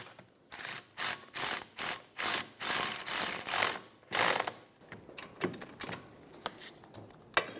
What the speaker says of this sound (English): Using a 14 millimeter socket, we're gonna tighten these down.